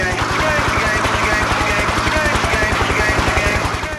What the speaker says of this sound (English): I remember the first time I heard their helicopters coming into our lands.